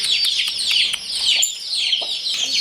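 Chicks peep in rapid, high-pitched chirps, overlapping continuously, with a hen clucking softly now and then underneath.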